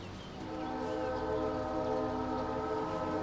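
A train passes in the farming video game Farming Simulator 25 on the Chipping Norton map, a steady loud rumble with sustained horn-like tones throughout, no talking.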